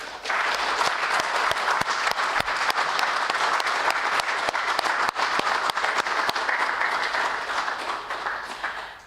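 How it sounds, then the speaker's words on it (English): An audience claps steadily at a school team competition in a hall, dense crowd applause sustained throughout with sharp individual claps standing out, fading slightly at the very end. "let us all give applause to ourselves and all the 14 other teams who have done very well today"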